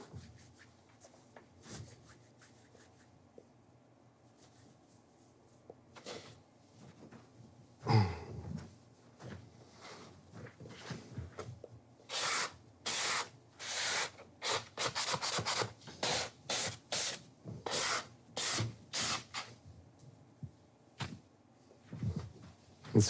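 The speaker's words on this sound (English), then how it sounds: "I'm going to kind of scrape my hands here now a little bit." Hands scraping and rubbing together in a kitchen during a cooking lesson, giving scattered soft rubs that build into a run of brisk, close, rhythmic scraping strokes.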